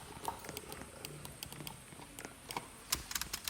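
Computer keyboard typing during gameplay: scattered, quick key clicks at an uneven pace, fairly quiet and close, with a few faster bursts near the end and no talk.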